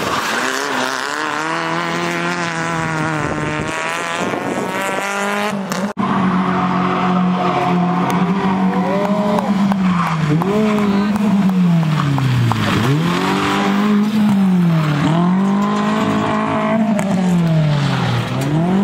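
A highly modified Jeep Wrangler engine revs loudly and continuously, its exhaust note swooping up and down in pitch with no talk over it.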